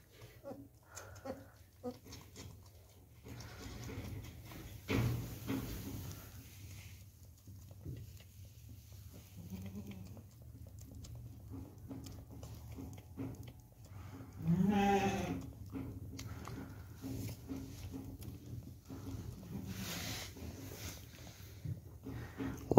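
Goats and their newborn kids bleat on a farm during kidding season, scattered calls rising over a low background hum, with one prominent wavering bleat around the middle and softer cries before and after.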